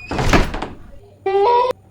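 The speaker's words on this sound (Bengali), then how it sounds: "দরজাটা এরকম আওয়াজ হইতাছে কেন?" A door creaks in a house as a storm seems to approach, a short rising squeal standing alone after a burst of voices and movement, loud and close.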